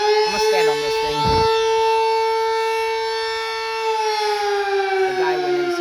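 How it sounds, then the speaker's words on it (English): A Sterling Model M civil defense siren in Columbus Grove, Ohio wails continuously with a loud, steady, sustained tone, heard outdoors at close range, with brief voices and noises beneath it. "He probably got tired of the siren."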